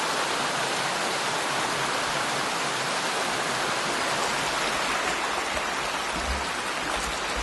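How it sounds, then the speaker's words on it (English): Waterfalls pouring through a forestry plantation in Galloway, Scotland, a steady, dense rushing roar close by that holds unbroken throughout without any voices. "through these waterfalls"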